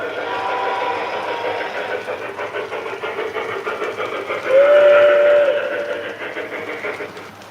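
A model steam locomotive chuffing in a soft, steady rhythm, with a brief whistle-like tone sounding partway through.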